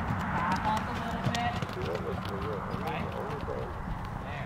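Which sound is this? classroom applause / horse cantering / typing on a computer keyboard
horse cantering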